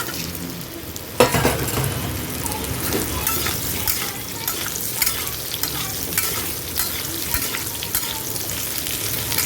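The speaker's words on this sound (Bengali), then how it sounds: "ফোড়ন দিয়ে দিয়েছি, এবার কেটে রাখা আলুটা দিয়ে দিচ্ছি।" Cut potatoes dropped into hot oil already tempered with whole cumin and bay leaf for a cabbage curry; a sudden loud burst of sizzling, then a steady close frying hiss with intermittent stirring scrapes.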